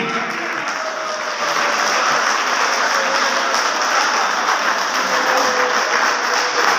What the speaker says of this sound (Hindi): भरपूर ताली से अपनी मोहब्बत का इजहार कीजिए जनाबे बाबा नजमी।